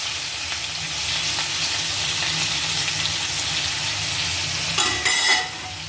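Tomato chutney sizzles and fries steadily in a pan as coriander goes in, with a brief louder burst of stirring and clatter near the end.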